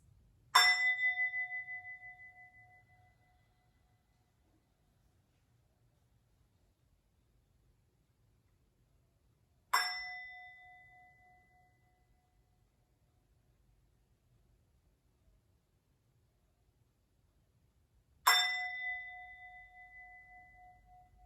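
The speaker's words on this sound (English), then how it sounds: "I'll start by playing the 4th chakra bell, chime it a few times" A fourth chakra bell is struck three times, each clear bright ring decaying slowly into quiet before the next, spaced about nine seconds apart.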